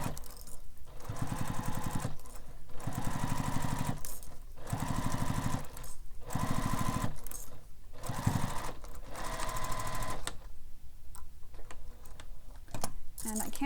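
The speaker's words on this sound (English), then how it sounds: "we're going to sew through all the layers using the seam allowance given in the pattern" A domestic sewing machine stitches through all the layers of a fabric wallet in several bursts of rapid, rattling needle strokes separated by short pauses, close and loud, ending in quieter handling.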